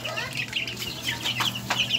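Young chicks kept together in a cage give repeated high cheeping and clucking calls, close and steady over a faint background hum.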